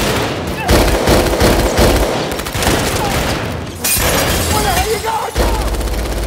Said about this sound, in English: giving BB a hail of gunfire